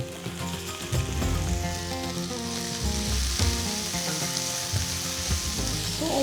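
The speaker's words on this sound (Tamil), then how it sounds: "ஸோ வெங்காயம் போட்ட பிறகு ஜஸ்ட் ஒரு 5 மினிட்ஸ் மீடியம் ஃப்ளேமில் நல்லா வதக்கிக்கலாம்." Finely chopped onions and green chillies sauté in hot oil with fennel seeds over a medium flame, giving a steady loud sizzle and crackle with occasional scraping stirs close by.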